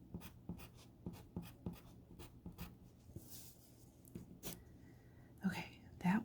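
A pencil writes a word into a Christmas word puzzle, with close, soft scratching strokes in a steady rhythm of short scribbles, followed by faint rustling and a quiet soft-spoken voice near the end.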